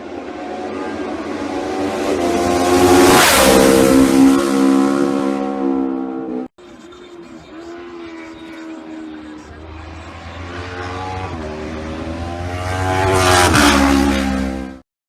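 A loud racing twin-cylinder motorcycle engine, of a Supertwin class bike at the Isle of Man, roars and revs up, briefly cuts out, then climbs again to a high-pitched howl before fading; a voice may be faintly audible underneath.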